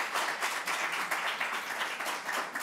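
An audience claps at a League of Women Voters forum on Measure B. The applause is dense and steady, heard from within the room, and lasts under three seconds without fading much.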